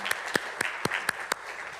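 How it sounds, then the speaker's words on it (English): A handful of scattered, distinct handclaps, about six sharp slaps spaced unevenly and fairly quiet, from a small audience at a Duke University energy conference panel on climate-tech investing. "cue the applause"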